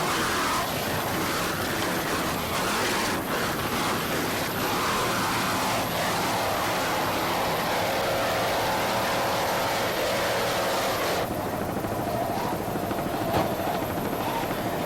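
Racing powerboats driven by outboard motors pound through rough seas, a continuous loud engine drone that holds steady for the whole stretch with no talking.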